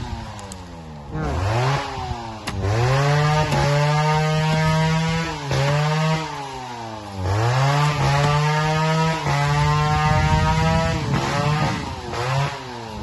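A chainsaw cuts into a tree stump being cleared for a concrete hollow-block wall, its engine revving up and bogging down repeatedly in loud, sustained bursts close by.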